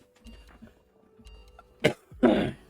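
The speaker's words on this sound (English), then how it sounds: "Sorry about the cough." A person coughs twice in quick succession, close and fairly loud, after quiet moments with faint background clicks.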